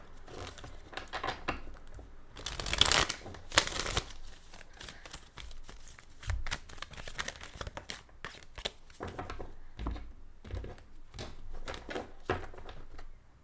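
Tarot cards being shuffled by hand: irregular papery riffles, crinkles and soft snaps in scattered bursts, with a louder flurry early on, close and fairly quiet with no talking.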